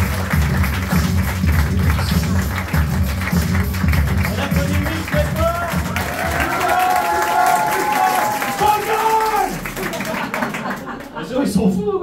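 Comedy club audience claps and cheers for the next performer at a stand-up show, a loud, dense burst of applause with a host's voice over it, fading out at the end.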